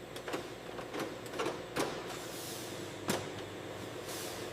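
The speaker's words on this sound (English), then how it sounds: "A folding machine folds the edge and presses it flat." A folding machine folds and presses the edges of ostrich leather in a handbag factory, giving sharp mechanical clacks at irregular intervals over a constant whirring machine noise.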